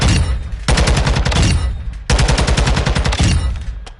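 Rapid automatic weapon fire in MW2, two loud sustained bursts of closely spaced shots separated by a short pause, close and dominant with no talk over it.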